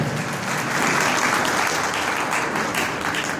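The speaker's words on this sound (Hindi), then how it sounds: "मैं चाहूँगा इस बेटी के लिए भरपूर ताली बजाएं।" An audience claps for a girl after her Labour Day speech in Urdu at a school event, a steady, loud and even burst of applause that carries through without a pause.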